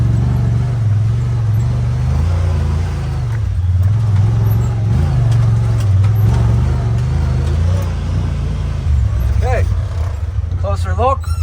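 A 2020 Honda Talon 1000x4 side-by-side drives through mud, its engine a loud, steady close-up drone that rises and falls slightly with throttle, with a voice briefly heard near the end.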